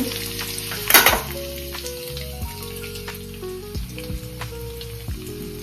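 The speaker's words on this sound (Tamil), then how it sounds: "நல்லா எண்ணெய் காஞ்சிச்சு. வடகம் போட்டு" Vadagam dropped into hot oil for tempering, a sharp loud crackling sizzle bursting at first and then settling into a steady frying hiss, close, with tones from a sustained background hum.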